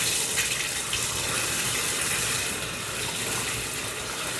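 Steady running water, like a tap or bath spray, pours continuously to rinse conditioner from a puppy during a bath, moderately close and unbroken, with no talking.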